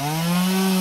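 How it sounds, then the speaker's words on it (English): A chainsaw from the slasher video game The Zebra-Man drones at a steady, loud pitch for under a second, with no voices over it. "And your chainsaw."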